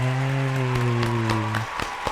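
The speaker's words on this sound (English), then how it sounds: "Not me applauding for myself" One person claps for themselves, a handful of sharp, separate claps close by that come mostly after a voice holding a long, bright tone fades out.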